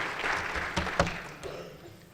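Brunch attendees at a 2014 community gathering clap for Dr. Cheryl McCarthy in a short, thinning burst of applause, with a couple of louder close claps before it fades out.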